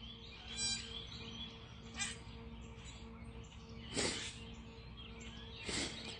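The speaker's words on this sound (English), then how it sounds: "The birds are singing, flying around." Birds call and chirp outdoors at sunrise, faint and scattered, with a few brief bursts of song standing out over a steady low background hum.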